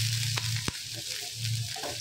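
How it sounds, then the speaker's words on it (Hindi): Chopped onions frying in a pan for samosa chaat, a steady close sizzle with a quick stirring scrape partway through, no talk. "अच्छे से 1-2 मिनट थोड़ा सा जो हमारा प्याज है उसको भून लेती हूँ"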